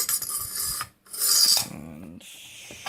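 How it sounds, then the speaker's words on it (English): Sandpaper rasps over a 1950s mid-century lamp in steady, close, loud strokes, broken by a brief pause and followed by more rubbing passes of varying intensity. "now I can sand this down and get it repainted"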